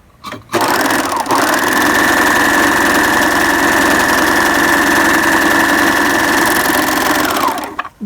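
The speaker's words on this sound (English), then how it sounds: "I like the serger because it just quickly zips the edges together." A serger starts up and runs at a fast, steady whirring buzz for several seconds while stitching the long fabric edges of a face mask, then winds down and stops, loud and close.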